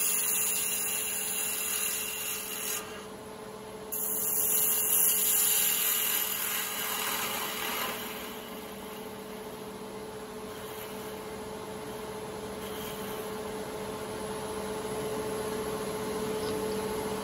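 A wood lathe spins a wooden spinning top with a steady, droning whir and hum that holds fairly constant throughout, close and moderately loud.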